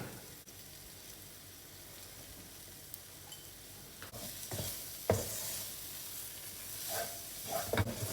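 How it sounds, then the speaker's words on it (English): Masala powder with garam masala and turmeric frying in a pan for prawn biryani, a steady soft sizzle with occasional stirring scrapes and clinks of a spoon, fairly close and moderately quiet, with no talking. "Stir until the raw taste of the masala powder goes."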